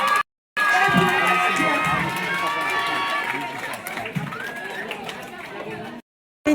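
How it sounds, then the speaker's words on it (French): A lively crowd at a public event in Marseille bursts into applause and cheering, with shouts and excited voices over continuous clapping, framed by brief silent gaps. "Donc un tonnerre d'applaudissements"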